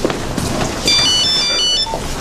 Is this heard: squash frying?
no